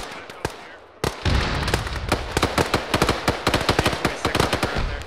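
Heavy gun firing in a military shooter game: one isolated shot, then a dense, rapid burst of loud cracking reports that carries on steadily, close and dominant, with faint voices underneath.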